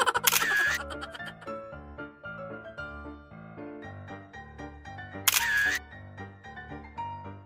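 A phone camera shutter clicks twice while a selfie is taken, with a few seconds between the two crisp bursts. Background music plays throughout.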